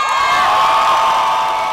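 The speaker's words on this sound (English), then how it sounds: "Cheer for Jessica" A large crowd of about 1,000 college students cheers and whoops loudly and steadily, a dense wall of voices sustained throughout.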